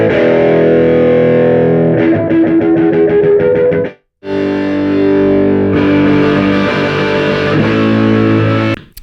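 Electric guitar played through a UAD Marshall amp plugin, captured with close mics plus separate room mics including a 4038 ribbon and a 251, giving a loud, distorted, sustained tone with strummed chords, a brief gap near the middle, then more crunchy playing.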